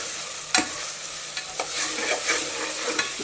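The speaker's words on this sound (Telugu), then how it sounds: "ఈ టమోటాలు అల్లం వెల్లుల్లి పేస్ట్ పచ్చివాసన పోయినాక వేయించుకోవాలండి" Tomatoes and ginger-garlic paste fry in a pan for a goat head and trotters curry, a soft continuous sizzle broken by a few sharp spoon scrapes and stirs.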